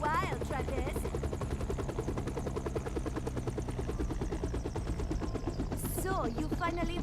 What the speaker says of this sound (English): So notice the helicopter she's on.